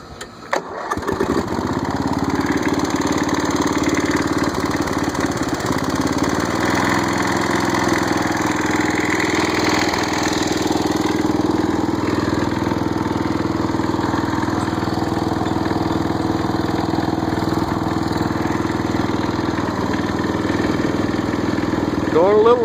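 A Snapper rear-engine riding mower cranks and catches, then settles into a steady, loud, close idle that runs for over twenty seconds without letting up.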